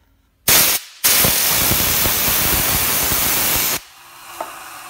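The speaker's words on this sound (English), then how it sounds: "Oh, and we have an air compressor." Air compressor in a garage releasing a loud, steady blast of hissing air that runs for about three seconds after a brief first burst, then cuts off leaving quiet room noise.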